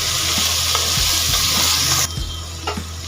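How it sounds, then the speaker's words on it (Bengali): Sliced carrots and beans frying for veg pulao, with a steady loud sizzle of hot oil and a few scraping stirs of a spatula in the pan, close up and with no talking. "ভেজে নেব।"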